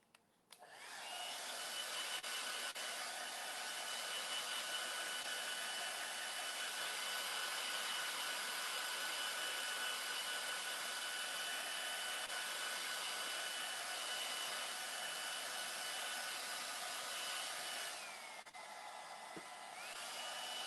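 A hair dryer blows continuously on a freshly painted floor, a loud steady whooshing drone lasting throughout with a brief dip in pitch near the end.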